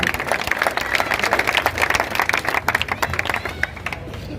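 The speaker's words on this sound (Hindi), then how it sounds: "एक बार जोरदार तालियों से कोच साहब का स्वागत करें" Steady clapping from a village crowd welcoming a wrestling coach at a homecoming celebration for a medal-winning wrestler, moderately loud with irregular, dense hand claps throughout.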